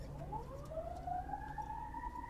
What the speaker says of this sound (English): And here go the sirens.